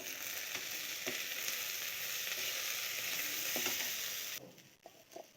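Salted mashed bhorta with turmeric fries in a pan under a steady close sizzle while a spoon stirs it with occasional knocks. The frying hiss drops away near the end, leaving a few scattered scrapes.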